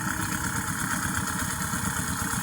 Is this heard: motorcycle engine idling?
yes